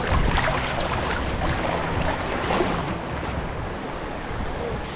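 Strong wind buffets the microphone on a beach during surf fishing, a steady loud rush over breaking surf that stays constant throughout with no voices.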